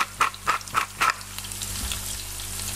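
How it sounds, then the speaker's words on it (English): Onion frying in olive oil in a pan for orecchiette in tuna ragout: four quick rhythmic scrapes of stirring open the scene, then a steady low sizzle continues alone. "we're going to fry off the onion"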